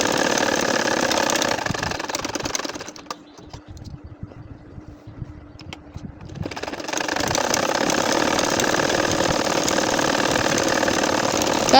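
A sewing machine stitching a nakshi kantha quilt whirs loudly in continuous runs, stops for a few seconds of near quiet, then starts again at full speed.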